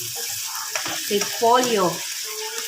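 Shrimp sautéing with cabbage in a pan, a steady close sizzle with stirring scrapes and a brief flutter of louder frying midway, with only a short spoken word over it.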